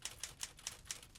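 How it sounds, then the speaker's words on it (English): Rapid typewriter clacking from the Friday the 13th video game, about five crisp keystrikes spaced evenly over a second, fairly close and clear with no talk. "now that we've heard the typewriter"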